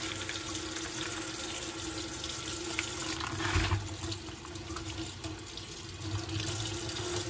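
A kitchen tap runs steadily as food is rinsed under it, a close continuous splashing hiss with faint handling and no speech.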